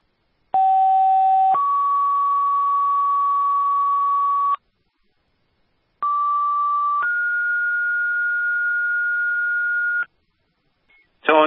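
Two-stage fire dispatch paging tones for a two-alarm apartment fire in Brattleboro, Vermont: a steady electronic tone shifts pitch after a second and holds for a few seconds, then a pause and a second two-tone sequence, loud and clean.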